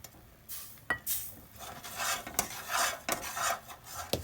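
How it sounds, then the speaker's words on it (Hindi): Jaggery cooks in a pan while a utensil stirs and scrapes it, giving soft rasping sweeps and occasional metallic clinks at close range, fairly quiet, with no talk. "तहन तक ई गुड़ के चलबैत पका ले के छै।"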